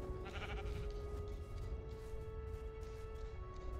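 Sheep bleating in the video game Minecraft Story Mode, a steady wavering bleat over dense game background sound, loud and continuous with no talking.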